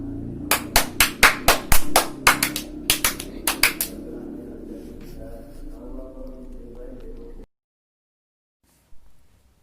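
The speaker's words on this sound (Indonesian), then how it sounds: "Tepuk tangan untuk Alia dan kelompok 3." Students in a classroom clap briefly, with sharp, scattered claps for a few seconds, then a low room hum and a short silence.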